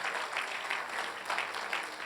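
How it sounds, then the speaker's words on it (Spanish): Church congregation clapping during a worship service, a moderate, somewhat rhythmic patter of hands that swells and dips in pulses, heard without talk. "Dale un fuerte aplauso a esa promesa."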